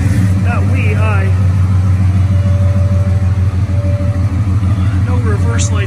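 A 1969 Dodge Charger pro touring build idles with a deep, steady engine rumble as it backs out slowly, close and loud throughout, with someone talking over it.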